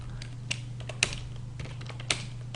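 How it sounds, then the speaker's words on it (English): Quiet typing on a computer keyboard, with a run of soft key taps and a few sharper keystrokes over a low steady hum. "Apologies, my typing's going a bit bad there."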